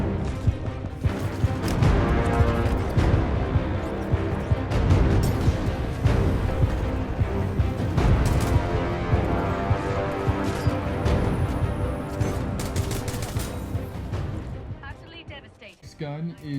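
A pilot weapon fires in Titanfall 2, with steady rapid gunfire running for most of the stretch under continuous game noise, then tapering off near the end.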